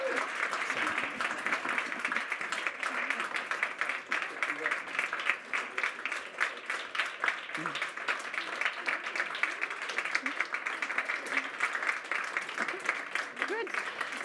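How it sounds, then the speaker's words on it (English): Audience applause at a launch event for The New Humanitarian, a steady, dense wash of clapping from a room full of people that holds for the whole stretch without pause. "So please join me in giving a warm applause to the new Humanitarian."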